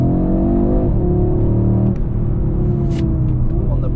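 A 2022 Audi RS3 in RS performance mode accelerates hard from second gear, its engine note rising loudly close by, then dropping as it shifts up and pulls again, with a brief high whoosh.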